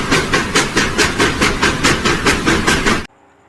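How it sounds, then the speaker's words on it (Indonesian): A toy steam train runs with a steady chuffing, hissing rhythm, loud and close, then cuts off abruptly near the end, leaving near silence. "di sini ada kereta api uap"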